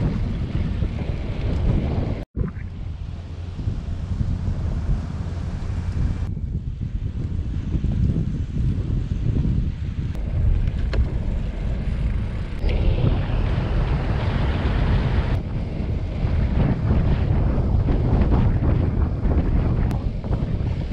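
Steady wind buffeting a microphone outdoors by a river in a steep-sided valley, a continuous low roar with gusty swells and a brief dropout near the start; no voices.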